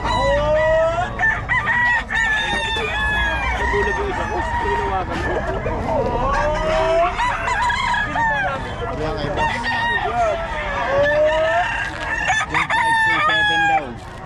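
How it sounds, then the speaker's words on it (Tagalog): Several fighting roosters and chickens crow and cluck together at a market in Bocaue, loud overlapping calls rising and falling continuously, with some voices in the background. "Ayan, manok siguro."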